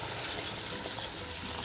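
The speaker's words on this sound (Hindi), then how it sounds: "अभी इसमें पानी डालते हैं, नया बॉयल पानी, बॉयल वाटर, उबला हुआ पानी डालती हूँ इसमें।" Freshly boiled water poured into a cooking pot while making lamb paya, a steady close rushing splash that runs without a break and with no talking.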